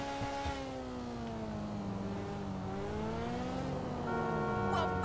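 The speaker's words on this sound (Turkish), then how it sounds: "Arabam çok felaket ses çıkarıyor." A car engine in GTA 5 revs and drones steadily, its pitch sweeping down and up as the car drives through traffic, loud and continuous with a few other noises near the end.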